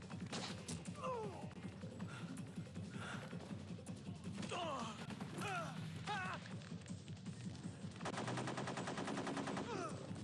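Gunfire in Metal Gear Solid 3, with rapid bursts of shots and sharp impacts under continuous game noise; a dense rattling volley arrives near the end.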